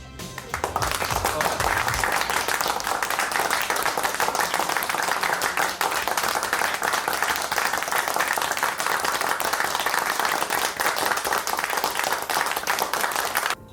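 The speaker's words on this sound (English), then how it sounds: "applause track" Steady, dense applause from a crowd on a canned applause sound effect track, loud and sustained throughout with no pauses.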